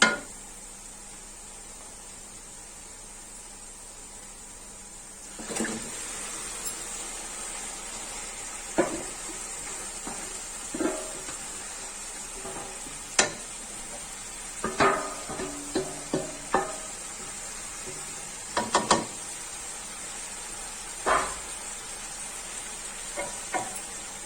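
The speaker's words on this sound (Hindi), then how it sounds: "अब हम इसमें शामिल करेंगे वो मैरिनेटेड चिकन" Marinated chicken added to a pan of pinkish fried onions for Hyderabadi qorma, starting with a quiet steady sizzle after a few seconds, broken by scattered stirring scrapes and utensil clinks.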